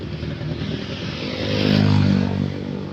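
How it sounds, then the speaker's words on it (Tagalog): A motorcycle passes on a road where riders bank through a curve, its engine swelling loud as it goes by and fading again over a short span. "Titingnan natin yung mga nagbabangking ng motor dito sa Marilaki."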